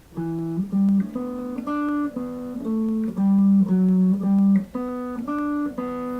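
A short melodic riff on electric guitar, a string of clear single notes with a steady rhythm, played close and alone.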